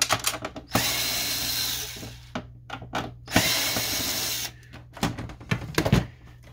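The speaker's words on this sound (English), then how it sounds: "we can remove these screws right here." A power screwdriver removes screws while a Lexmark Pro915 printer is taken apart, with loud whirring bursts broken by short gaps, clicks and handling clatter.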